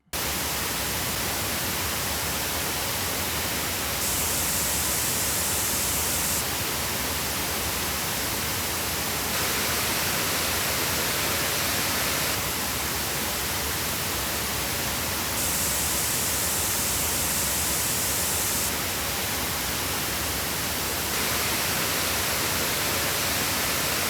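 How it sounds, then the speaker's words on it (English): Steady, dense broadband hiss of a pink noise test signal for speaker measurement, unbroken and loud throughout, with slight shifts in tone every few seconds. "Pink noise measurements."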